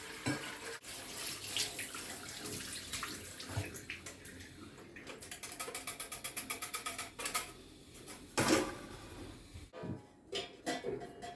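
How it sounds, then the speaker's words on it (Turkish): Water runs from the tap of a new samovar as it is turned on and off repeatedly, a hissing flow that starts and stops, near and fairly quiet, with faint ticking taps between. "Bu şekilde musluğumuzu aç kapı yaparak da musluk içerisindeki tozun dışarı atılmasını sağlayabilirsiniz."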